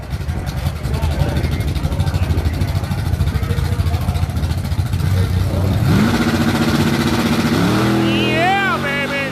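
A drag racing car at a Tri Five Nationals event accelerates down the track, its engine droning loudly and then rising sharply in pitch through the gears, with voices in the background.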